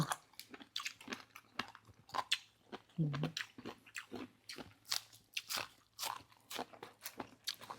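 Crisp, crunchy bites and chewing of pounded Thai jellyfish salad with mixed vegetables, close and repeated in an irregular rhythm, faint and unaccompanied by talk.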